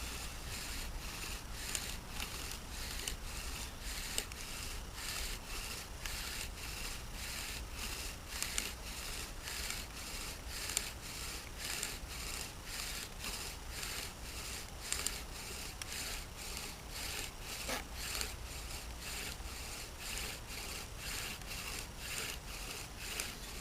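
Bow drill spindle rubbing against a wooden fireboard, a slow, steady back-and-forth scraping with even strokes about once a second, faint and continuous without talk.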